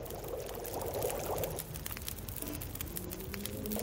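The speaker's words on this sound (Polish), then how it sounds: "Muszę tą wodę jeszcze ugotować." Water heating in a pot over a fire in The Long Dark, a soft bubbling, pouring wash that is busier early on and then settles into faint steady simmering with light crackles.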